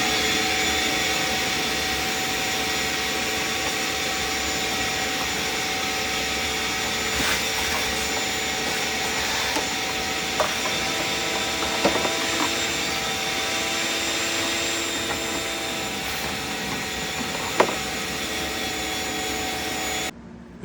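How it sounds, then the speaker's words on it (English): A vacuum cleaner runs continuously inside the engine air filter box of a 2009-2013 Toyota Corolla, giving a steady whining roar with a few brief knocks and scrapes. "I'm going to take my vacuum and I'm going to clean inside of there."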